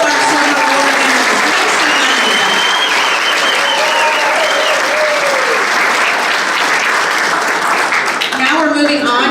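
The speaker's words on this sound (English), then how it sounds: "Can we have a big round of applause for all of our summer award winners?" A big round of applause fills the hall at a 5th grade promotion ceremony for the summer award winners, loud and sustained clapping from a large crowd with scattered cheers and voices, and a speaker starting to talk near the end.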